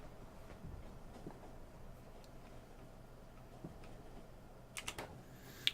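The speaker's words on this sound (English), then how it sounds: "I love the sound of the train when you have a car open." Factorio train running with an open cargo wagon: a steady soft rumble of rolling wheels with rhythmic clacks and scattered ticks, fairly quiet, a few sharper clicks near the end.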